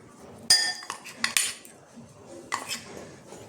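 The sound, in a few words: mixing flour and cornflour dough ingredients in a bowl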